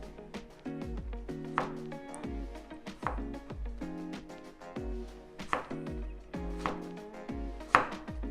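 A very sharp knife julienning carrot into strips strikes a cutting board in steady, evenly spaced taps, close and moderately quiet, over soft tonal sound underneath.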